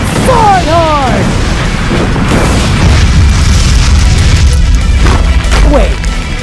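Loud, continuous fiery explosion effect from the Fire Dragon Sword Horn attack in a Death Battle animated fight, booming and roaring throughout under an excited voice.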